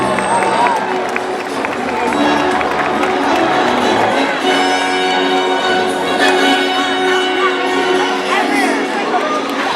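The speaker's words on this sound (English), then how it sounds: "Let's give her a round of applause." Crowd at a SeaWorld San Diego orca show applauding and cheering loudly for the trainer, a dense continuous wash of clapping, whoops and children's shouts filling the whole stretch without a break.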